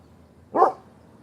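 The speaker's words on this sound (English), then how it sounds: "See, there he goes, barking at the cars and shit." One short, loud bark from a dog close by, standing alone against a quiet background.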